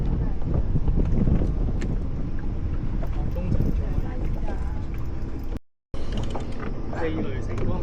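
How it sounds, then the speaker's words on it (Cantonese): Strong wind buffets the microphone on a boat while fishing for squid off Hong Kong, a steady loud rushing roar with a brief dropout near the end. "啲風咁鬼犀利。"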